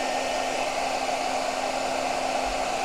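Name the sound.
hair dryer running at full power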